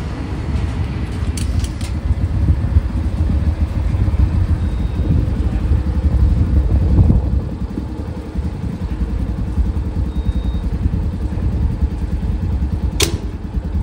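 A Tata Nexon petrol car engine runs at a steady, close idle-like rumble, with a short sharp click near the end and no talking.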